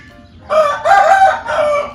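A rooster crows once, loud and close, in a brief two-second call with rising and falling harmonic bursts, and no voices over it.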